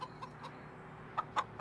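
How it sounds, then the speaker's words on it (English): Baby chickens in a farming video game cluck in short, bright peeps, a few spaced bursts with three louder ones close together near the end over a quiet background hum. "How many chickens do we got in here? We got some baby chickens."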